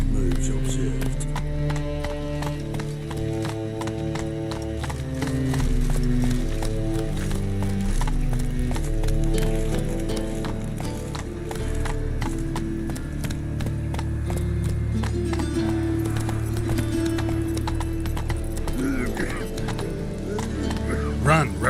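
A horse gallops in The Witcher 3 video game, with rhythmic hoofbeats running under music and spoken game dialogue, steady and moderately loud throughout.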